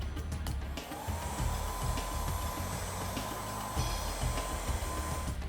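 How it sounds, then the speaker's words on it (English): A blow dryer makes one quick pass over a handmade pressed-flower cell phone case, giving a steady close broadband whoosh with a faint whine, running continuously alone. "Now go ahead and get out your blow dryer again and just go ahead and give it a one quick pass over."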